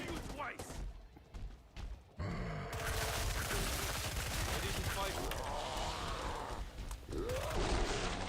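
Killing Floor 2 gunfire rattles in rapid repeated shots and bursts, dense and loud through most of the stretch after a few sparser opening shots, while players talk over the shooting.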